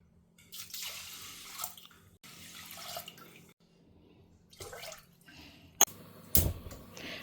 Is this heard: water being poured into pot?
yes